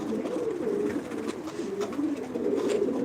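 A loft of 55 newly arrived pigeons fills the air with unbroken, overlapping cooing, a steady low warble from many birds nearby, with no voices.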